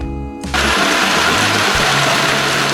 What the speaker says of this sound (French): Avec son moteur de 280 chevaux de vapeur, elle continue de récolter des hectares de maïs avec une grande efficacité.